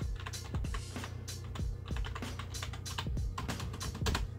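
Fingers type steadily on a computer keyboard, close and fairly quiet, with a quick run of key clicks and occasional louder taps under a low hum, with no speech.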